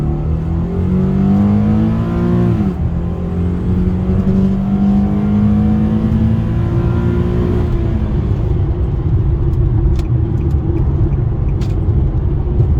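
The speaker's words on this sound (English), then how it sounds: "All right, pedal on the floor." A 2010 Infiniti G37 sedan accelerates hard with the pedal floored, driving slightly uphill. The engine roars loudly and climbs in pitch, drops briefly at each of two upshifts, then pulls strongly again, heard from inside the cabin.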